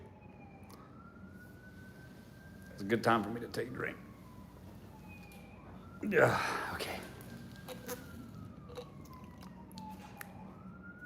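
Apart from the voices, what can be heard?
emergency vehicle sirens outside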